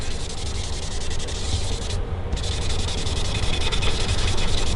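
Sandpaper rubs lightly over a dye-stained wooden guitar body in a continuous close scratchy hiss, a rhythmic back-and-forth rasp with a brief pause near the middle and no talk.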